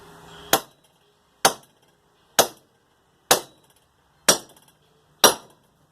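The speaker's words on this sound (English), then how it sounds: "I'm going to slide it to the end of the anvil where I can tap that easy like. Again, ball peen's my friend here." A ball peen hammer taps a truck front u-joint resting on the end of an anvil: six sharp, ringing metallic hits, evenly spaced about a second apart, close and clear with no talking.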